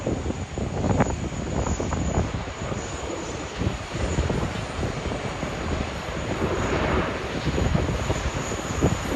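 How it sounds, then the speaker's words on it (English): A Qantas Boeing 787-9 airliner arriving from Johannesburg and landing at Sydney Airport, heard as a steady, broad jet roar with wind buffeting on the microphone, moderately loud and continuous throughout. "This is our next plane, Qantas 100 Boeing 7879, arriving from Johannesburg"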